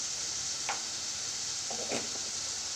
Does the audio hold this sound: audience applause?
no